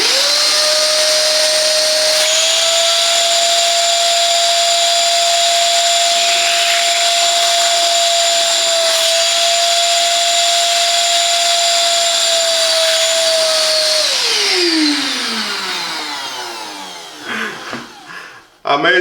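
A Parkside PWD 20 B2 wet and dry vacuum sucking up a bucket of water: a loud, steady whining motor hum for about fourteen seconds, then the pitch drops as it winds down, ending with a few clunks.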